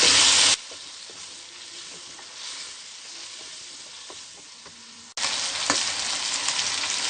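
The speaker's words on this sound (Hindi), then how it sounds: "चिकन को हम अच्छे तरीके से फ्राई करेंगे। लहसुन और अदरक का पेस्ट शामिल करेंगे," Chicken frying in a pan with garlic and ginger paste, a constant close sizzle with scattered crackles and pops, surging loudly at the start and again after a quieter middle stretch.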